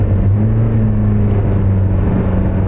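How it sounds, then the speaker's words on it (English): A car rolling past on the road, a low steady engine rumble with a faint rising tone, close and fairly loud throughout the short stretch. "we better wait for this car to go by."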